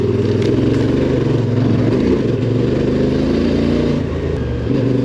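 CFMOTO adventure motorcycles on road tyres riding a road in Portugal, a steady loud engine drone with rhythmic pulsing throughout, close and continuous.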